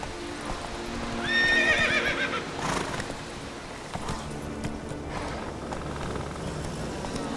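Roach, a horse in The Witcher 3 game, whinnies in a clear rising call early on, then hooves clip-clop in a steady galloping rhythm that carries through to the end, close and moderately loud with no speech.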